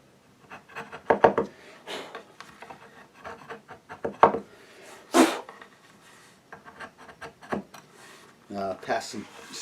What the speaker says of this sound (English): Pass some sandpaper across that, and that'll be fine.